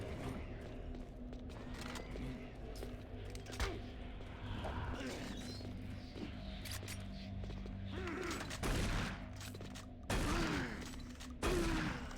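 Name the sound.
super shotgun firing in the video game Doom 3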